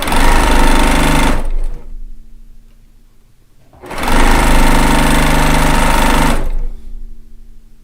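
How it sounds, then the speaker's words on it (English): A Baby Lock Accomplish straight-stitch-only sewing machine pieces quilt blocks in two long, steady runs of loud, even whirring, separated by a pause of a couple of seconds. "I'm using the Baby Lock Accomplish right there. The Accomplish. It is a straight stitch only machine"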